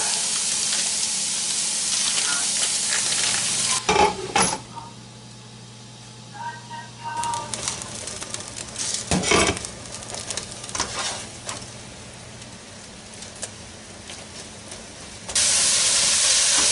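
Hamburger meat browning in a pan for slow cooker chili, a steady hiss and sizzle that fades in the middle and returns loud at the end, with a few clicks and clatters in between.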